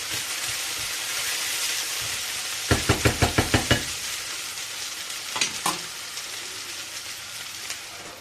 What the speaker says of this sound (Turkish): Evet patateslerimizi bir kenarda biraz kızarttım şöyle.